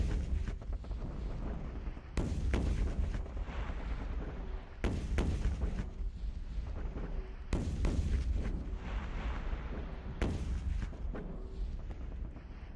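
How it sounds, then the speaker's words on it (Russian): Gunfire and artillery blasts in the World War II strategy game Rush for Berlin, heavy booming thuds repeating every couple of seconds over a constant rumbling battle din, no speech. "Эй, они стреляют в нас!"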